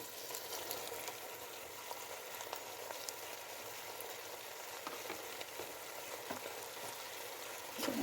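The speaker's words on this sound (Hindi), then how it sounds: "अच्छे से मिक्स करते हैं।" Spaghetti and macaroni being stirred together in a pan, giving a steady, close sizzling and frying hiss with faint scraping of the stirring, with no talking.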